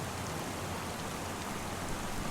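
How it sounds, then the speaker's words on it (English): Steady rain falls in the farming game Farming Simulator 25, an even hiss of drops that stays constant and fairly faint, with no voices. "it's been raining for a while"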